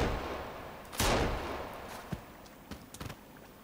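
Gunfire in Sons of the Forest: one sharp, loud shot rings out near the start, followed by a few softer, scattered cracks and taps over a quiet background.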